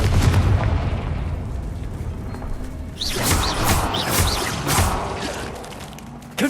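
A Confringo fire spell blasts in Hogwarts Legacy, bursting with a sharp crack and then rolling into a string of fiery whooshes and pops that fade, loud and close, with a final burst at the end.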